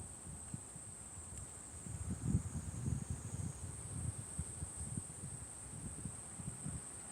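Cicadas drone loudly and without a break in a Tokyo park, a steady shrill buzz held for the whole stretch over low gusting wind rumble, with no one talking.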